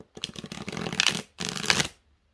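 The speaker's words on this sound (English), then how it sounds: "So I tried to shuffle them slightly further apart, so just the tops of the cards are touching." Alice in Wonderland tarot cards are riffle shuffled up close, two rapid fluttering zips of cards interleaving, each about a second long and separated by a brief gap.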